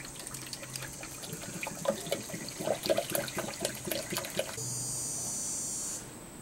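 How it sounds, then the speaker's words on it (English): Sanitizing solution is poured into an RV fresh water tank, giving a steady trickling, gurgling liquid sound up close with a brief smoother rushing stretch near the end and no talk. "I'm just going to pour this solution"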